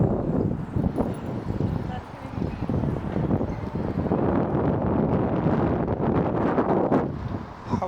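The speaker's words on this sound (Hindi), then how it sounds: "हवा भी काफ़ी तेज़ है" Strong, cold wind gusting across a downtown Toronto street near Gerrard Street West, a dense, steady rumbling roar of buffeting air against the microphone that swells and eases throughout, with faint city noise underneath.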